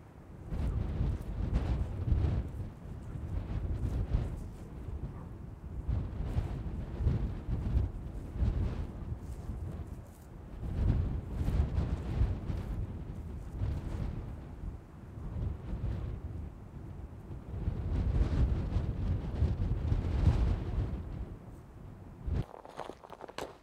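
Strong wind on the coast at Mornington buffets the microphone in loud, surging low rumbling gusts that rise and fall throughout, with no voices.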